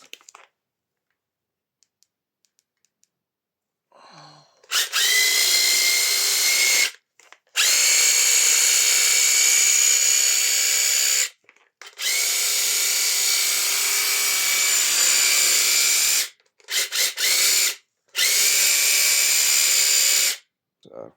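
A Makita DUH754SZ cordless hedge trimmer runs in loud, close bursts of buzzing blade chatter, starting and stopping four or five times with silent gaps between, after faint handling clicks at the start.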